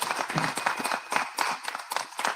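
Audience at a homebrew club awards show clapping together, a dense steady patter of many hands that rises and falls over a couple of seconds, with a brief voice mixed in.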